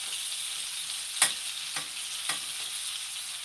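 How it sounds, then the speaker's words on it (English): Chicken pieces brown in a skillet with a steady bright sizzle, broken by a few sharp scraping stirs, close by with no talk. "Brown the chicken a little bit, get a little bit."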